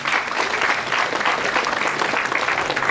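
An audience at a talk bursting into sustained applause, a dense, even wash of many hands clapping at close range for about three seconds.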